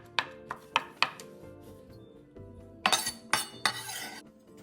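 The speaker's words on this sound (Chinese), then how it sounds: "虾米15克，洗净后清水浸泡15分钟，沥干水分，再剁碎备用" Soaked dried shrimp being minced with a knife on a board, a run of sharp separate chops followed by a tighter cluster of louder strikes, close and with no voices.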